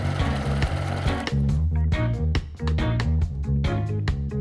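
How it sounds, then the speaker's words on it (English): A sewing machine stitches a seam close to the edge on a fabric zipper pouch, running steadily and fairly close for several seconds with steady tonal layers beneath. "I'm just stitching close in here just to hold that seam allowance down into place."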